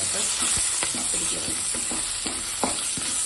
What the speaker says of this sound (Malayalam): ഇവിടെ കൂടെ രണ്ട് പച്ചമുളകും കൂടെ ഇട്ട് വഴറ്റാം